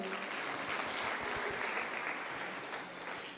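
A church congregation claps loudly after a healing testimony, a continuous, fairly even burst of applause that tapers slightly toward the end.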